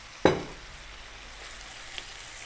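Blended fresh basil and tomato hit a hot pan with a sharp burst of sizzle, then settle into a steady, moderate frying hiss with a faint clink near the end.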